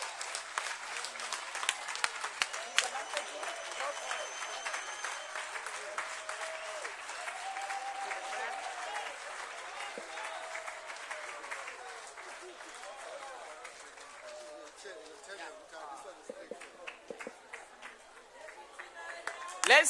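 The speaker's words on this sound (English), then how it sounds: "Let's give her another round of applause." An assembly audience at a national people's plenum applauds, long crowd clapping with scattered voices and chatter mixed in, gradually thinning out over about twenty seconds.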